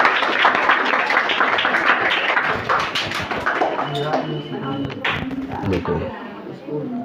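Applause at a Bihar Diwas school event in a Siwan district high school, loud clapping at first that thins into scattered claps while people talk nearby.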